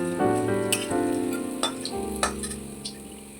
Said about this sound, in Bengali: ভালো করে সব ভাজা হয়ে গেছে